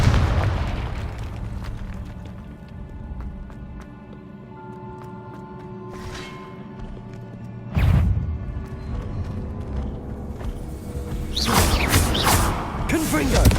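Fiery Confringo spell blasts in the video game Hogwarts Legacy, played on a PS4 slim: booming bursts over a busy game soundtrack, one sharp burst near the middle and a louder cluster of crackling blasts toward the end.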